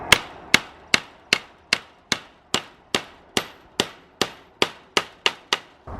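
A small hammer drives nails into thin wood, about a dozen sharp, evenly spaced blows ringing out close and loud at a steady rhythm, with nobody talking.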